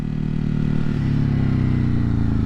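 A 2020 Ducati Hypermotard 950 SP motorcycle is ridden, its engine droning loud and close with a steady low rumble and a slight shift in pitch partway through, under wind noise.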